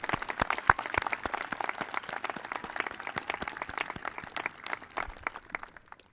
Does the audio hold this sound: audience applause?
yes